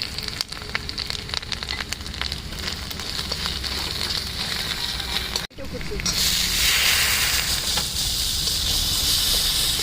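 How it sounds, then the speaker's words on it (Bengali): Onion browned with ginger-garlic paste being sautéed for a pointed gourd and prawn curry gives a steady, close hiss and sizzle, which jumps louder about halfway through as more paste hits the hot pan. "আদা রসুন বাটাটা আবার দিয়ে ভালো করে কষিয়ে"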